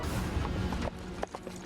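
A horse's hooves clip-clop in a few uneven, fairly close steps over a low background hum, with no talking.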